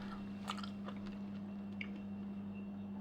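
Pale melon bitten and chewed close to the mic, a few crisp wet crunches and squishes over a steady low hum, quiet and intermittent.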